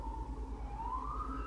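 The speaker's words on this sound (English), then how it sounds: "you hear that siren?" A distant emergency-vehicle siren wails faintly, its tone rising slowly in a single continuous sweep over low background rumble.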